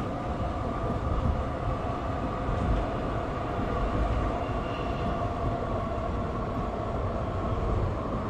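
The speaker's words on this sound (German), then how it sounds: "Also was die Beschleunigung angeht, kann dieser Zug echt was bieten." A Frankfurt U-Bahn train accelerating in the Train Sim World 2022 simulator: a steady, loud rumbling roar of motor and wheels on rail, continuous and even throughout with no talking.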